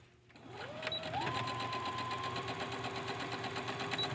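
A sewing machine stitches steadily along a pressed line of fabric while finishing the back vent of a dress, its motor rising to a continuous whirring hum after a brief start and holding close and loud throughout.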